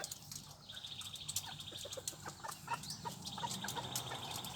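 A long-tailed Phoenix crossbreed rooster kept as a breeding cock at a farm, clucking and calling in short bursts amid other fowl and flapping wings, with a steady farmyard background.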